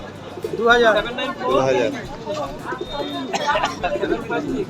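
Lahori Sherazi pigeons at a bird market, their coos and calls mixed with the market's hubbub, heard under steady nearby talk.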